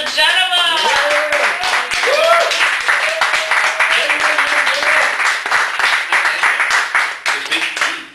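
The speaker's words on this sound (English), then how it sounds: "give one big, huge round of applause for a great feature from DeGenova" An audience at a poetry feature at a Chicago cafe breaks into steady, loud applause and clapping that carries on for several seconds while voices cheer and talk over it.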